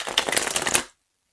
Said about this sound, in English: We're going to do a quick shuffle